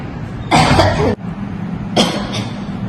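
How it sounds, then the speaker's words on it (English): A woman coughs twice, a harsh burst followed by a shorter one after a brief pause, loud and close in a quiet room. "I'm having a problem with coughing very frequently lately"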